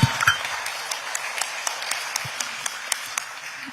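Applause welcoming the president at a luncheon for victims of state violence in Korea, a thin, scattered patter of hands with sharper individual claps popping out at irregular intervals, fairly quiet and roomy.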